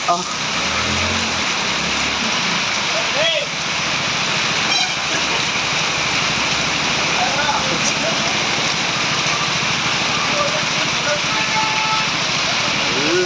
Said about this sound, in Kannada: ನೀರು, ಫುಲ್ ಮಳೆ.